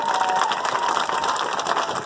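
Dense audience applause fills a hall during a talk, a steady wash of clapping with no speech over it.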